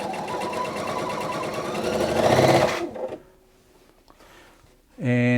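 A Pfaff Quilt Expression 720 sewing machine runs a fast, close stitching whir for about three seconds and speeds up slightly before halting. Near silence follows, then a voice starts speaking at the end.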